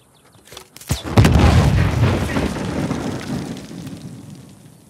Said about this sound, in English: Nadine hasn't given up on excavation by explosions